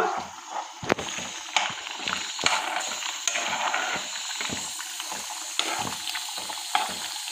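Chicken with a splash of fresh cream being stirred in a pan, a steady wet sizzle and slosh with soft repeated scraping clicks of the spoon, close and fairly quiet, no talking.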